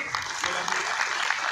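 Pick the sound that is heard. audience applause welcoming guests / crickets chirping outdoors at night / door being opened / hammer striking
audience applause welcoming guests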